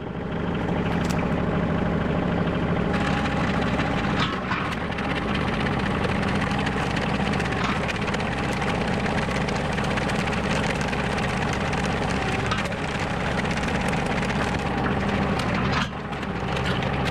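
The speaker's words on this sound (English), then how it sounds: "we'll start off with getting the tractor out" A heavy tractor engine rumbles steadily at close range on farmland being fenced for sheep, a low continuous drone with a few brief clunks and shifts in tone.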